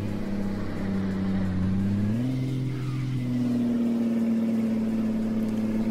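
Scania truck engine in Euro Truck Simulator 2 labouring up a steep hill in a low gear, a loud steady drone that climbs in pitch around two seconds and then holds, with no talking.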